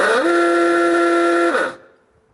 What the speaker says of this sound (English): Uga horn.